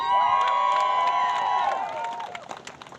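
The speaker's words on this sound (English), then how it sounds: "give yourselves another round of applause" A graduating high school class and their families cheer loudly and applaud at a 2024 commencement ceremony, a dense, sustained roar of shouts and clapping that slowly thins out toward the end.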